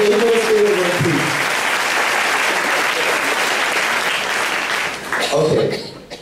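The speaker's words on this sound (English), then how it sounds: "give yourself a round of applause" Conference keynote audience giving a round of applause: loud, dense clapping from a large crowd filling the hall for several seconds, with brief voices at the start and end before it fades.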